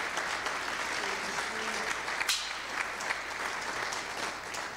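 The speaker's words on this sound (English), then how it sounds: "Give him a hand clap this morning" A church congregation claps for a pastor during a Sunday morning service, a steady, fairly quiet wash of many hands sustained for about five seconds with a faint voice or two underneath.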